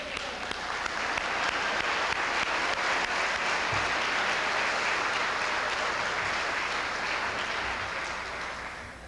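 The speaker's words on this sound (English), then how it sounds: "give them a round of applause again and say thank you" Sustained applause from an indoor audience at a fire department's 50th anniversary celebration, clapping dense and steady for about nine seconds before tapering slightly at the end, with no voices over it.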